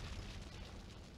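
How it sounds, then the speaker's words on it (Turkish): A car blowing up in the video game GTA Vice City, a brief dense roaring blast at moderate level. "Patlayacak o araba."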